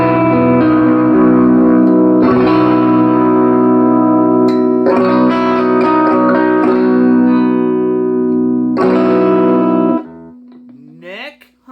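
Electric guitar with a neck humbucker and bridge single coil, played through a Fender Musicmaster amp fitted with an orange-frame JBL D120F speaker, all tones at 10; loud sustained chords ring out in several strummed bursts, then fade with a short rising slide.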